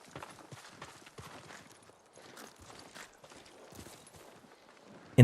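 Horse hooves clip-clopping in the video game Ghost of Tsushima, a quiet, uneven run of light thudding steps that ends in a sudden loud burst.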